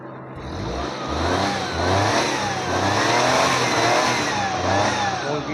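A Maruti Suzuki 800 with a carburettor petrol engine revs repeatedly, the engine rising and falling in several throttle blips, loud and close, with no talking.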